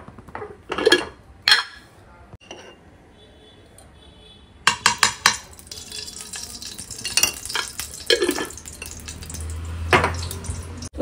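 Makhana being stirred with a utensil in a pan with ghee during dry roasting, giving scattered scraping and rattling clatters with a soft sizzle, close and moderately loud, some stretches quieter between bursts.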